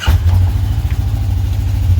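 Polaris KRX 1000 side-by-side with its catalytic converter removed, idling cold: a steady, loud, throbbing low exhaust rumble close by, with no revving and no talk.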